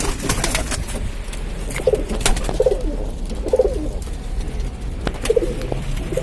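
Soft, low cooing from a female pigeon about two years old repeats several times over a steady rushing background noise, with occasional sharp knocks.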